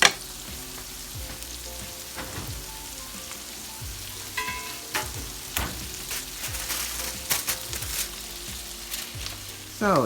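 Potatoes fry in a pan with a steady close sizzle, and scraping stirs and clatters of a utensil come through at intervals.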